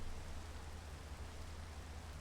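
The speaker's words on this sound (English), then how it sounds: "It's still raining, and it's the middle of the night." Steady rain falls at night in Britain, a soft, even hiss with a low rumble and no distinct drops, continuous and faint.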